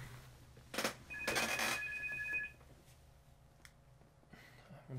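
A phone rings faintly during online chess play: a thin, steady electronic tone of about a second and a half, mixed with scattered clicks and soft room noise.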